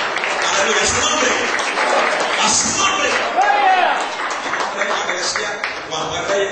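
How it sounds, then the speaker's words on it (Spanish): Church congregation in Lansing, Michigan applauding during worship, dense sustained clapping mixed with voices and shouts throughout. "Denle un aplauso"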